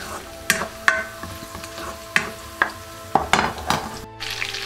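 Garlic fries in a pan for a beef and bell pepper dish. A soft, steady sizzle runs beneath repeated sharp clinks and scrapes of a utensil stirring against the pan, heard close up.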